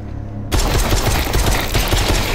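Rapid gunfire from the VR shooter Propagation VR bursts in suddenly after a half-second lull, a loud, dense stream of overlapping shots that continues steadily to the end.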